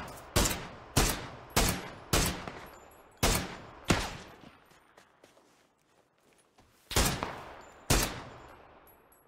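Enemy gunfire in a video game: a series of sharp, loud single shots in an uneven rhythm with short gaps, a pause in the middle, then more shots, with no talk.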